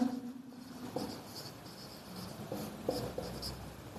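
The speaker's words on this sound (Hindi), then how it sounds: "तो मैं यहां पे लिख देता हूं" Chalk or marker scratches across a classroom board in short strokes and taps, steady and close, with a faint voice in the background.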